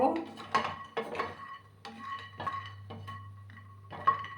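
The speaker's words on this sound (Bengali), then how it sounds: "2 মিনিটের মতো আমি এটাকে একটু ড্রাই রোস্ট করে নেব" Fenugreek greens dry-roast in a pan with no oil sizzle. A spatula stirs them with clinks and scrapes against the metal in short, uneven bursts separated by quiet gaps.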